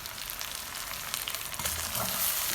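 Rice and meat frying in a pan as water is added, a steady dense sizzle that swells and crackles louder toward the end, close and continuous with no talk.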